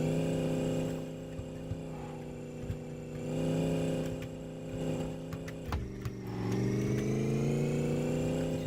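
A car engine pulls steadily through the gears, its drone rising and then dropping sharply at a shift before climbing again; the sound is moderately loud and heard from inside the car.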